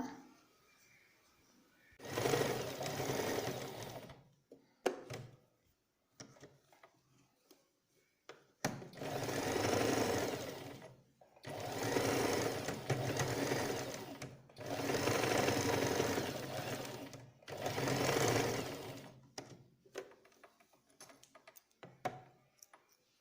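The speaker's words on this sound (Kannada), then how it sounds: "ಈ 1 ಇಂಚ್ ಆಗುವಷ್ಟು ಬಿಟ್ಟು ಇಲ್ಲಿಂದ ನಾವು ಸ್ಟಿಚಿಂಗ್ ಸ್ಟಾರ್ಟ್ ಮಾಡ್ಕೊಳ್ಳೋಣ." A sewing machine stitches a cloth face mask in four long, loud runs of rapid rhythmic clatter, each separated by quiet pauses with light handling sounds.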